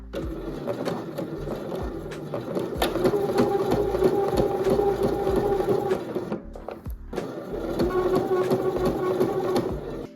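Sewing machine stitching a strip of leather onto a denim dress, a continuous close motor hum with fast needle rattle, briefly pausing midway before resuming; no talking.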